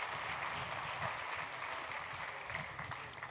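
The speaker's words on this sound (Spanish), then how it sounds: "aplausos, aplausos" Audience applause fills a groundbreaking ceremony for a port project, a steady dense wash of clapping from a crowd that holds throughout without a break.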